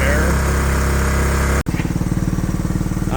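A Honda motorcycle engine idles close by in a repair shop with a loud steady rumble, then after a brief dropout settles into a quicker, evenly pulsing idle.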